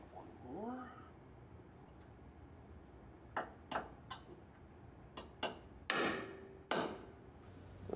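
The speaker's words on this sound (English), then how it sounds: "Let me find my hammer and center punch here" A handful of sharp metallic taps ring out in the second half, a hammer striking a center punch to mark a spot for drilling, after a brief murmur of speech at the start.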